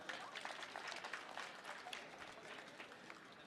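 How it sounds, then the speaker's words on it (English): Audience applause after a song performance at a public gathering at the Oshikango border post: a steady, dense wash of clapping that holds at an even level for the whole stretch, with no talking over it. "You deserve all the round of applause."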